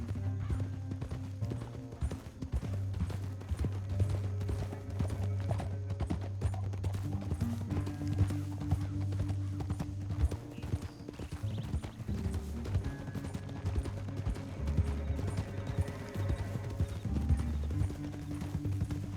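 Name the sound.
horse hooves clopping, from a video game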